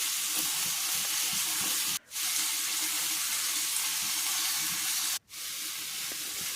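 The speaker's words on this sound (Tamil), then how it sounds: "தக்காளி வதங்கிட்டு இருக்குது." Tomatoes sautéing with rock salt in a pan for curry leaf tomato chutney, giving a steady broadband sizzle that runs throughout. Two brief dropouts break the sizzle, and no one talks.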